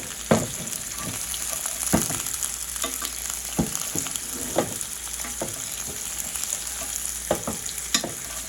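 Meat searing in a hot pan for a sub sandwich, a loud constant sizzle with sharp spatula taps and scrapes recurring every second or so, close by and without talk.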